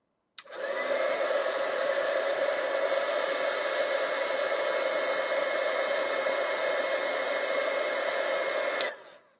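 A heat embossing tool blows steadily over a card for about eight seconds, a loud, even hiss-roar like a hair dryer that cuts off sharply at the end.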